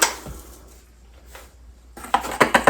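A spoon scoops solid lye chunks out of a container while lye water is measured for soap making, giving a few close, sharp clinks and scrapes, with a short scrape early and a louder cluster of clatter near the end.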